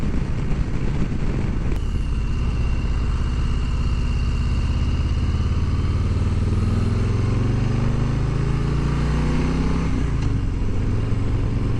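Harley-Davidson Low Rider ST motorcycle on the move, its engine a steady loud rumble with wind roar that rises in pitch as it accelerates, falls back briefly, then climbs again.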